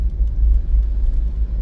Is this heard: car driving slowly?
yes